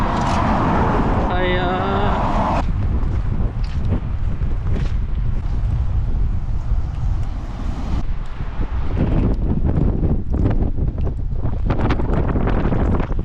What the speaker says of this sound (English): It is so windy and so rainy.